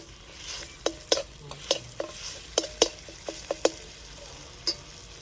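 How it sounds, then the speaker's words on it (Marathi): Masala spices hitting hot oil in a pan before stuffed pomfret is tawa-fried, a low constant sizzle with a series of crisp spatula clacks and scrapes against the pan, close up with no voices. "आपलं तेल गरम झाले त्यात आता मसाला टाकून घेऊ"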